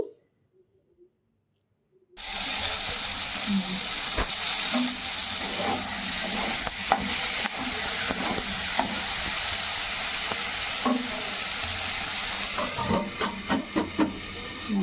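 Panch phoron spices and tomato with salt frying in a pan in a home kitchen, a steady close sizzle and hiss with scattered crackles and pops, starting abruptly after a short silence.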